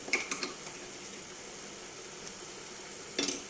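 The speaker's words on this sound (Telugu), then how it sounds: "ఇప్పుడు ఇందులోకి అల్లం వెల్లుల్లి పేస్ట్ వేసుకుందాం" Ginger garlic paste sizzles quietly in a pan with fried onions for a shrimp curry, a soft steady hiss with a few light clinks at the start and a short clatter near the end.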